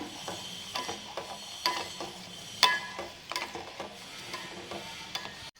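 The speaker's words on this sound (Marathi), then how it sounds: "एकसारखं हलवत हा गुळ आपण पूर्ण वितळून घेऊया" Jaggery melts in boiling water as a spoon stirs it, making quiet scrapes and clicks in an uneven rhythm over a soft bubbling bed, close and fairly faint, with no talking.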